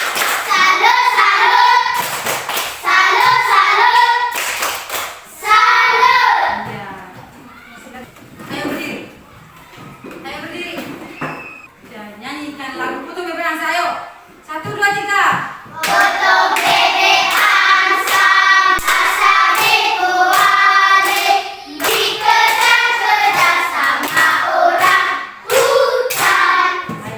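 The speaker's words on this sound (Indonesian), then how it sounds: "Tepuk tangan dulu untuk kelompok 3." A classroom of students claps together in a rhythmic 'tepuk salut' cheer, sharp unison hand claps falling in repeated bursts while many voices chant along, loud and close, with pauses between rounds.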